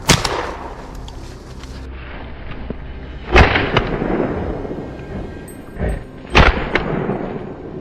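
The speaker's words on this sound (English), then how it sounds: "I fired instantly." Rifle shots fired at wild boar in open mountain country, three sharp loud reports a few seconds apart, each followed by a rolling echo, with no talking.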